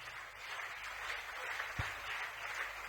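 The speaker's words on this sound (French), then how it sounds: "Applaudissez." A church congregation applauds during a pastor's sermon, producing steady, dense clapping from many hands that fills the room without a break.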